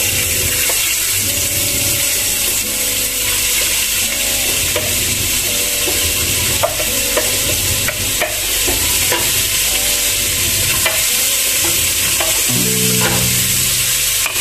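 Onions fry in hot oil in a pan for Indian pulao with lamb, a loud continuous sizzle with occasional scraping stirs and clinks throughout.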